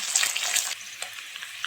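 Cut potatoes lightly frying in a pan with a fried fish head, a bright close sizzle with a few scraping stirs that quickly fades to a softer crackle.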